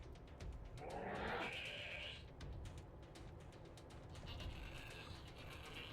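A hell goat in Wasteland 3 bleats in a harsh, wavering cry, followed by quieter mechanical clicks and a fainter second bleat over a low rumbling game background.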